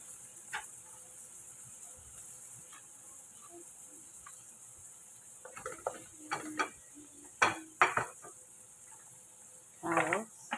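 Green chili gets stirred in a cooking pan for macaroni bechamel, with scattered scrapes and clatters of the utensil building into sharper bursts over a quiet sizzling background, plus some nearby speech.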